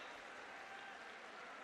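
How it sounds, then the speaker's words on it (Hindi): Audience applause at a Delhi municipal (MCD) appointment letter ceremony, a steady, faint wash of clapping that holds evenly throughout with no voices over it. "जोरदार तालियां बजती रहें"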